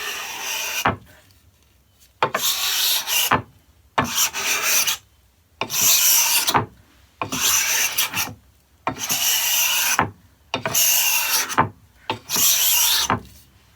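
A Stanley No. 80 cabinet scraper is pushed across old American oak in eight evenly spaced rasping strokes, each about a second long, with short quiet pauses between them. The sound is close and there is no talk.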